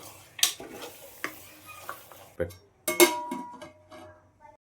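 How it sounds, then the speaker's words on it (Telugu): Mutton with tomato and salt frying in oil in a pan while being stirred, giving a soft sizzle broken by several scraping and clinking spoon strokes against the pot, close by with a voice talking over it. "ఇలాగే నూనెలో బాగా ఫ్రై చేసుకోవాలి"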